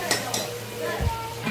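Tomatoes sauté in a pan for a paneer bhaji, stirred with a utensil that scrapes and knocks against the metal over a soft sizzle, with a couple of clinks and a low thump near the end.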